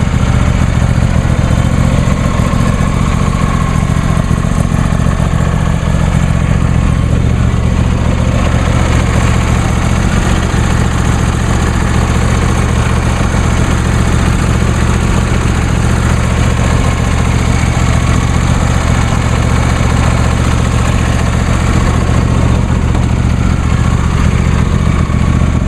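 A John Deere D130 lawn tractor engine idles steadily, a loud, constant low drone with an even hum and no variation.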